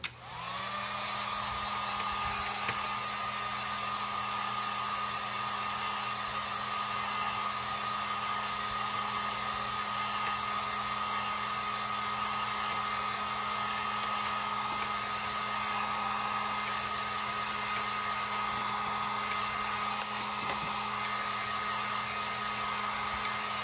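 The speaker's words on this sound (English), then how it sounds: "I'm going to take my heat gun" A heat gun runs continuously to dry acrylic paint on a door hanger, giving a steady, loud, high whining blower hum with airy hiss that holds unchanged throughout, with no talk.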